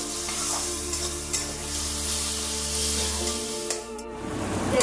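Spices with cumin and coriander powder frying in a pan, a close, continuous sizzle under a low steady hum, with a brief scrape of stirring near the end.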